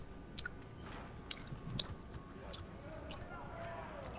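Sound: someone chewing gum loudly

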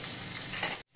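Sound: fish frying in oil

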